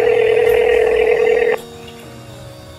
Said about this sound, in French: ton téléphone ça sonne ou pas?